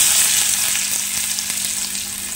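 Shallots dropped into hot oil with popped mustard seeds crackle into a loud, dense, hissing sizzle that stays close and steady for a couple of seconds.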